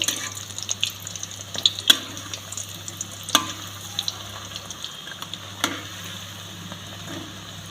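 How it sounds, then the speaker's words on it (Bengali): Bread and egg pakoras frying in oil, a soft continuous bubbling sizzle with scattered clinks and scrapes of a utensil in the pan, no one talking. "এগুলো ভাজতে খুব বেশি সময় লাগে না কম সময়ের মধ্যেই ভাজা হয়ে যায়"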